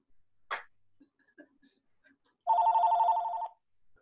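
A cordless VTech home phone rings once in a quiet room, a single loud electronic trill lasting about a second, preceded by a short click and a few faint handling noises.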